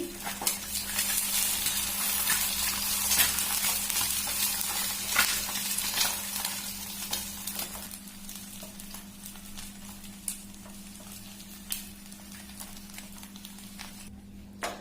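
Bread toasting in a hot pan, crisp frying sizzle with scrapes and taps of handling, louder at first and fading into quieter crackle with occasional knocks; no talk.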